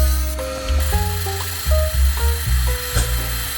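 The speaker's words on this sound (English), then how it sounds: "First, I want to cut some pieces from a brass rod." A brass rod being cut into small pieces, a short burst of uneven grinding and rasping with shifting pitch, close and fairly loud.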